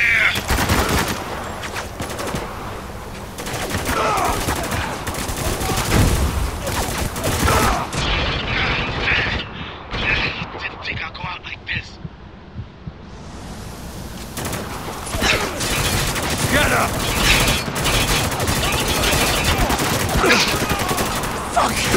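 Heavy gunfire in the shooter Spec Ops: The Line, dense bursts of machine-gun and rifle fire with booms, close and loud, briefly thinning to a muffled lull midway before the barrage resumes, with shouted voices mixed in.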